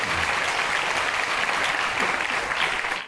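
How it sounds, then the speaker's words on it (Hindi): Audience applause at a spiritual talk on the meaning of Hinduism, dense sustained clapping from a large crowd, loud and even for the full length. "आप सब ताली इसलिए बजा रहे हैं"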